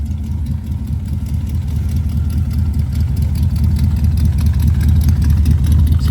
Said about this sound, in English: I've been absolutely loving driving this car with this new exhaust